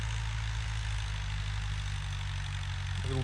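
A tractor engine runs during wheat sowing in a field, giving a steady, loud low drone that holds even for the whole stretch, with no voices.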